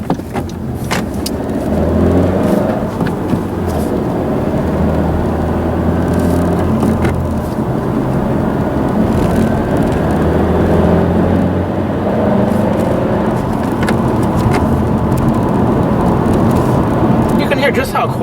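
Interior cabin noise of a 2017 Honda Civic EX-T 6-speed cruising at 57 mph on a rough country road at night: a steady low road and engine rumble with tyre hum, continuous throughout.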